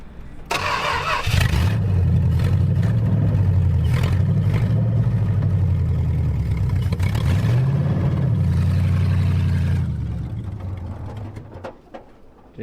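An old Chrysler car engine runs steadily at close range on a victory lap after junkyard-part repairs, a loud continuous drone with rising and falling revs that fades out toward the end.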